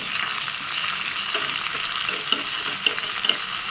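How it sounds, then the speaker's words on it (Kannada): Asafoetida and chillies sizzle and crackle in hot oil for tempering, a steady bright hiss with a few sharper pops toward the end, close by and with no talking. "ಸೂಜ್ ಮೆಣಸು ಮತ್ತು ಇಂಗು ಅದನ್ನು ಹಾಕಿ ಒಗ್ಗರಣೆ ರೆಡಿ ಮಾಡ್ಕೊತೀನಿ"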